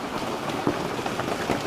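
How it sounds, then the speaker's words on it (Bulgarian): Hail and rain falling steadily and dripping all around, a dense close patter with a few louder drops and knocks standing out, no talk. "всичко капе и вали"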